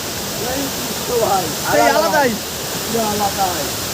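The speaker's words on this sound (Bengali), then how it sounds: "ঝর্ণার দিকে আসছি পাহাড়ের উঁচুতে উঠতেছি ঝর্ণাটা দেখার জন্য" Usri waterfall in Jharkhand, approached on a hill climb, gives a steady broadband rush of falling water throughout, with voices talking over it.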